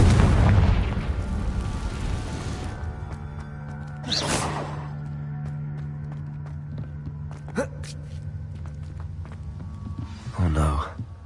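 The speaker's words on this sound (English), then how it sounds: "Confringo!" A Confringo fire-blast spell in the video game Hogwarts Legacy explodes in a burst of booms, a loud opening blast followed by further bursts around four and eleven seconds over steady ambient game sound, with a voice speaking.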